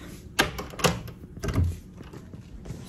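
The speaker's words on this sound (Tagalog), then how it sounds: "Nakalock pa yung pinto." A house's back door is unlocked and opened, giving a few sharp clicks and knocks of the latch and handle followed by a soft thud, close by with little background noise.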